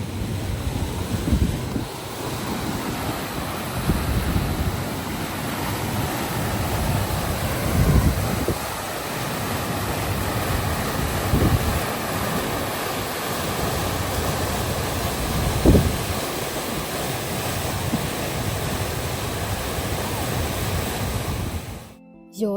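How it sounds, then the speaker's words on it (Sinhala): Water rushes out of a sluice gate on the ancient Yoda Ela irrigation canal at Kala Wewa, a steady loud roar with gusty wind buffeting the microphone and occasional louder surges. "මේ සොරව්වෙන් පිටවෙන වතුරේ සද්දේ"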